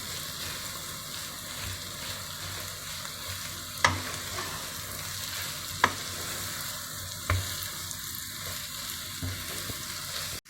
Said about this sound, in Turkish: Güzelce bir 5 dakika böyle kavuracağım yumurtasıyla beraber.